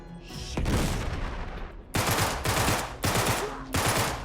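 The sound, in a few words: gunfire and grenades in the video game Uncharted 3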